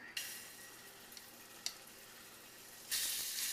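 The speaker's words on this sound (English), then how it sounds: "I put vegetable oil into my pot, and I'm going to take half of this and plop it in here." Meat pieces searing in hot vegetable oil in a pot, a soft steady sizzle with a couple of brief clinks, then a sudden louder burst of hissing as more meat goes in.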